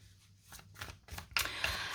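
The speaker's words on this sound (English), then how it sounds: "It's actually really easy for me to shuffle because I shuffle overhand." An overhand shuffle of a tarot card deck gives quiet, close papery riffling in several short bursts, getting denser and louder toward the end.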